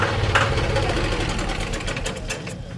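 Swaraj 735 FE tractor diesel engine running close by, a rapid, even knocking chug that slowly fades in loudness toward the end.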